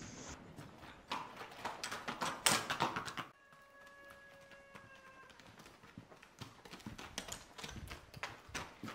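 Horse hooves clip-clop on a ranch as a rider dismounts, a steady run of close hoof strikes that pauses briefly midway, with a thin tonal hum during the gap, no talk.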